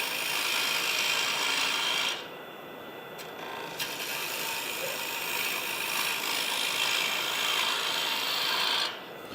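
Lathe tool cutting into a spinning wooden bowl, a continuous loud close-up scraping rasp that drops off briefly partway through, then resumes before a short pause near the end.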